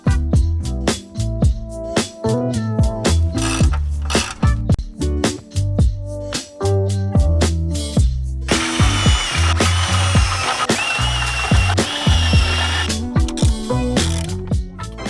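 A ratchet cranks a bolt tight while mounting a large mud flap on an RV, rapid clicking pawl strokes in bursts, close and loud, with a brief steadier power-tool-like whir partway through and no talking.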